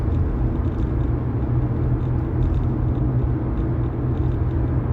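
Steady low rumble of a car driving, a continuous road and engine drone with no breaks and no voices.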